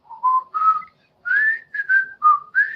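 A person whistles a tune outdoors on a quiet, dark, humid night before a storm: a series of clear, close, sustained notes in short phrases with brief pauses between them, with no other sound.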